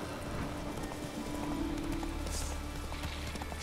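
Roach the horse trots along rocky slopes in The Witcher 3, her hooves making a steady, close clip-clop rhythm with no talk over it.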